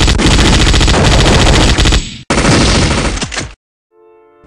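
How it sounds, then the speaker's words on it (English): Loud, rapid automatic gunfire bursts in a dramatized assassination scene, a dense fusillade of shots that breaks briefly, resumes, then cuts off abruptly. "After the gunplay ceased"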